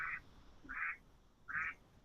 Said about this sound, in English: The duck is calling.